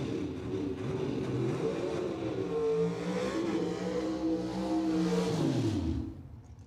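A drag racing car tears down the dragstrip at Cordova Dragway, its engine howling through rising and falling gear pitches before fading out at the end.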